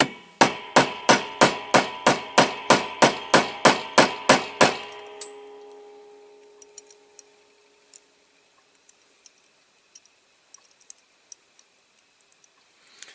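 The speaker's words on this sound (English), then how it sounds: "I'll tap the other one on" A small hammer taps an axle onto a die-cast Corgi Toys Ford Zephyr police car, about fourteen sharp ringing metallic taps in a steady quick rhythm, close and loud, then a few faint light clicks afterward.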